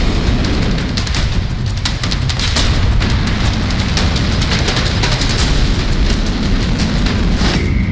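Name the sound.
missile launch blast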